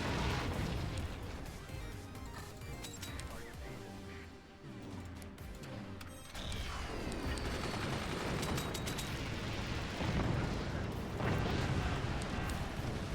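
Rapid burst fire from weapons in the strategy game Forts, a dense barrage of overlapping shots and impacts that runs loud and continuous throughout, with a brief dip near the middle before resuming.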